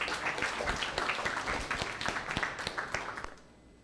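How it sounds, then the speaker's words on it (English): Audience applause for JK Studios, a dense burst of many hands clapping close by that holds steady for several seconds before tapering off at the end. "let's give a big round of applause for JK Studios"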